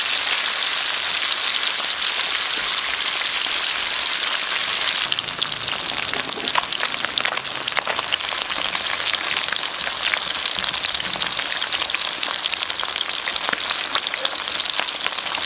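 Garlic frying in a pan alongside fried swordfish, a loud constant crackling sizzle with dense popping spatter throughout, no voices.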